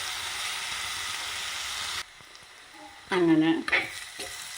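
Onions and capsicum sautéing in oil for a chicken roast, a soft steady sizzle that drops away, then louder stirring scrapes in the pan for a moment, with a brief word spoken.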